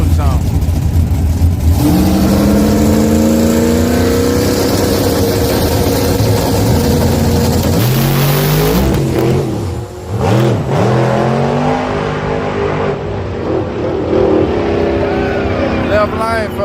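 A drag racing car revs hard and does a burnout, its engine roaring loud and close with rising and falling pitch sweeps that continue throughout.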